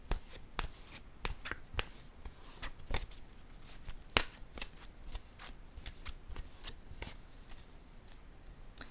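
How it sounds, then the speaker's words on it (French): An intuitive soul oracle deck is shuffled by hand with a steady run of soft card flicks and riffles, close and fairly quiet, with one sharper snap partway through. "Je vais piger maintenant une carte de mon oracle de l'âme intuitive."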